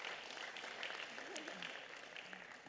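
A room full of people claps steadily for nearly three seconds at a Los Angeles County Board of Supervisors meeting, a dense, even wash of applause with faint voices mixed underneath.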